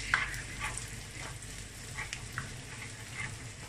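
Shrimp frying in butter with a little vegetable oil, a steady close sizzle with a few crackling pops and stirring scrapes, no voices.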